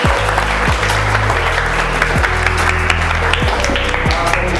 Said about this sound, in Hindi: ताली बजाइए अपने मम्मी पापा के लिए।